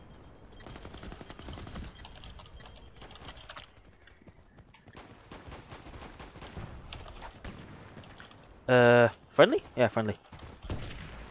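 SKS rifle fire in the game Battlefield Play4Free: a loud cluster of sharp, closely spaced shots bursts out near the end, following quieter clattering in-game noise and brief talking.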